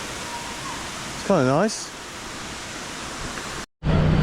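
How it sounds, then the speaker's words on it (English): Steady rushing water from a waterfall in Bohol, Philippines fills the clip as a continuous broadband roar, with a brief voice and a short whistle-like tone partway through and a momentary dropout near the end. "So just leaving the waterfall now."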